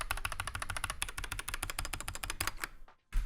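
Rapid continuous typing on a SteelSeries Apex 9 TKL mechanical keyboard, dense clicky keystrokes at close range, slowing to a few last taps and a brief pause before one louder clack.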